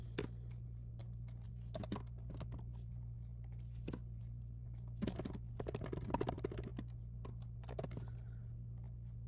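Someone types on a computer keyboard while entering formula controls in a data app, with scattered key clicks and a quick burst of taps over a steady low hum.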